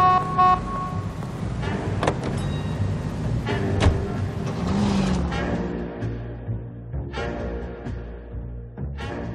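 Car engine in L.A. Noire, driving steadily through city streets with a continuous mid-level engine hum, passing traffic noise and brief horn-like tones scattered throughout.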